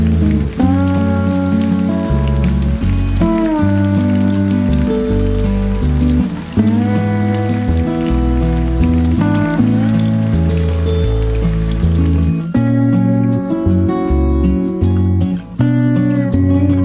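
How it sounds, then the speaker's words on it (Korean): A heavy sudden rain shower pours down steadily and loudly on a mountain ridge in Bukhansan, a dense constant wash of drops without pause. "식사 중에 예고도 없는 소나기가 쏟아집니다."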